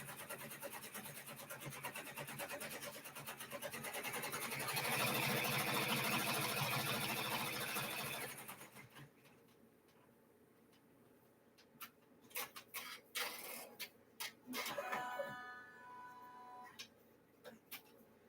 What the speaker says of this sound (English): Hopefully my machine isn't too loud.